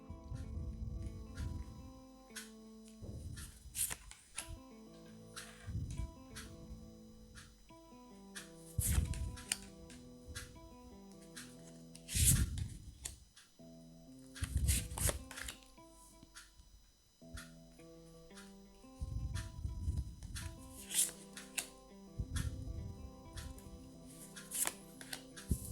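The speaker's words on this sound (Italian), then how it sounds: "ora appunto iniziamo a stendere le carte sul tavolo di stesa" Cards being laid out and spread across a table in a card-reading session: soft, scattered slaps and shuffling bursts at irregular intervals, heard over quiet background music.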